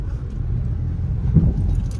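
Heavy road traffic near NewStar in Angeles, Pampanga, during the Christmas season, a constant low rumble of car engines with a faint jingle and a brief louder thump.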